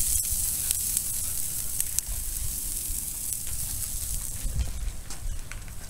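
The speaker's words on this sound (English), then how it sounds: "once you put these on there, you hear that nice sizzle." Steady broadband sizzling of jalapeno cheese turkey burgers on a hot charcoal grill, a continuous bright hiss with faint pops, no talking.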